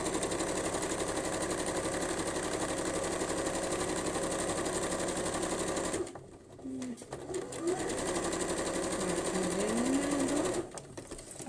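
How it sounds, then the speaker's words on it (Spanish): Sewing machine stitching a paper-technique bag, a steady fast mechanical whirr running continuously, briefly pausing and restarting, with faint bird coos in the background. "Coso de un lado."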